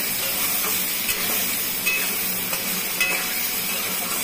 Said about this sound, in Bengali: একটু নাড়বো চাড়বো, নেড়ে চেড়ে তারপরে মশলাটা দিয়ে কষাবো